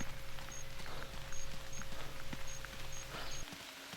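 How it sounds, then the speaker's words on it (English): Heavy rain pours down in theHunter Classic's Piccabeen Bay, a steady close hiss of drops with soft patters and a faint droning tone underneath, no voices. "this rain's coming down pretty hard"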